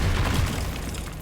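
A steady, dense roar of fire from the Incendio spell in Hogwarts Legacy, loud and close, sustained with a low rumbling body throughout.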